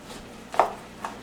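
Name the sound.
knife cutting ribeye steaks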